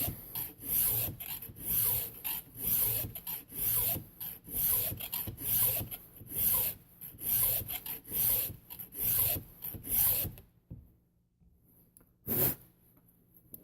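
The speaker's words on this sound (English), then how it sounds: "I raised the file up just a hair, and I got rid of that with a few more swipes. So I'll do a few more here." A hand file drawn through a chainsaw chain in a filing guide rasps in steady, evenly spaced strokes for about ten seconds, loud and close, then stops, leaving near silence broken by one last brief scrape.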